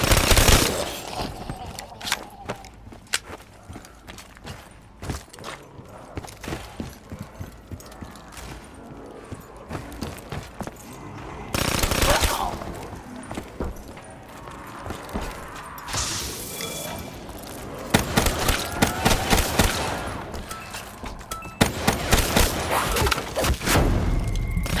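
Bursts of machine gun fire crackle in Black Ops 3 Zombies, loud and dense, coming in repeated volleys between quieter game noise, with heavy booms over the last stretch.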